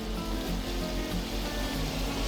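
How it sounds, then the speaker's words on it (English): Saffron-and-spice water poured into a seafood paella pan, giving a steady, close splashing wash that stays even and full throughout with no talking. "this is when you do the water that's had the saffron and spices already dissolved"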